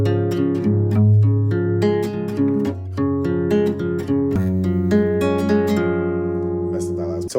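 Acoustic guitar plays the second part of a song, a steady run of plucked notes and ringing chords close up, a short break near the middle before the picking continues and the last notes ring out alone.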